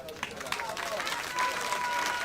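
A theatre audience gives brief applause for a singer at a Sicilian song-and-story show, loud and close, mixed with crowd noise and a voice.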